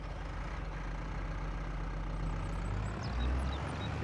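A tractor engine idles steadily in Farming Simulator on a farm while grass is windrowed and baled, a low constant rumble with a slight swell near the end and faint bird chirps above.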